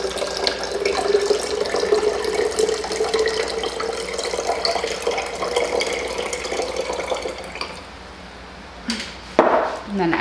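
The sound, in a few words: pouring water out of a cup into another clean cup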